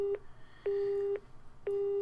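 Telephone busy signal after a hang-up in The Fruit of Grisaia visual novel: three steady, clean beeps at a regular pace with short gaps, with no voices over it.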